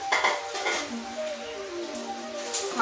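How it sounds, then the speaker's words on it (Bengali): Oil sizzles in a kadai (wok) while egg curry is being made. The hiss is steady and moderate, with clinks of utensils near the start and a few ringing metallic tones. "কড়াইয়ে তেল দিলাম"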